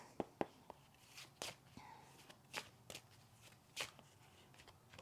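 Tarot cards are shuffled and tapped close by in quick, uneven riffles and soft slaps, several sharp flicks among quieter rustling, with no clear speech.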